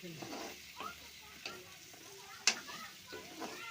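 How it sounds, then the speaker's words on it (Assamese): Potatoes are stirred in a frying pan, with soft scraping strokes over a quiet, steady sizzle of frying and a sharper clack from the utensil near the middle. "আলু দি অলপ লৰাই দিওঁ।"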